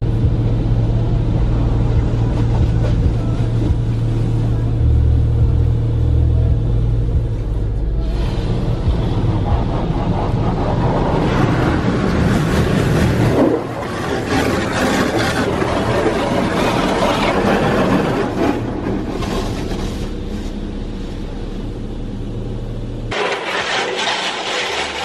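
Automatic car wash running around a car, a loud, steady mechanical rumble with rushing water and spray that swells and shifts partway through, then thins near the end.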